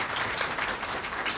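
Audience applause greets a company executive invited to a business briefing event, a steady broadband patter of clapping held at an even level for its short span, moderately distant.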